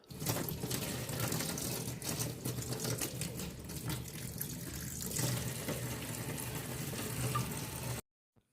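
A kitchen tap runs steadily while cut fish is washed beneath it, a close, continuous rushing stream with faint splashes, stopping abruptly at the end.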